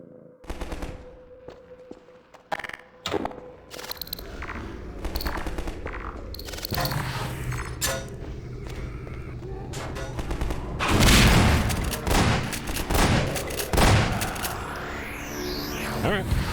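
Shotgun blasts and other gunfire ring out in Half-Life 2: Episode One, with sharp shots coming in irregular bursts over busy game sounds and getting denser and louder toward the end.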